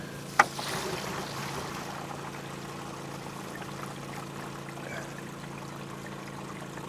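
Water drains from an RV toilet tank into a 15-gallon Blue Boy portable tank: a steady, low rushing flow that follows a single sharp click near the start.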